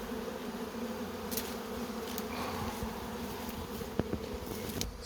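A swarm of bees clusters on a tree branch, filling the air with a steady, faint hum of many wings, broken by a few brief buzzes as single insects fly close past.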